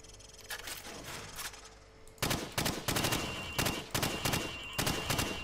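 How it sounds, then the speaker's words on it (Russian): Gunfire in Call of Duty 4: Modern Warfare (2007), shooting at targets from the hip: a few softer shots, then loud, rapid cracks in quick repeated bursts, close and with no talk. "Теперь стреляй по мишеням от бедра."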